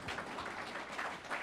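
Audience applause at a mayoral debate, a soft, steady patter of clapping from a modest crowd lasting a second or two.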